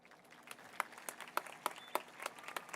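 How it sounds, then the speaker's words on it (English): Audience applause at a high school graduation, a brief burst of clapping from a crowd with several distinct, sharper nearby claps standing out over the general patter. "Let us all give one more round of applause to all our parents, teachers, and especially our graduating class of 2025."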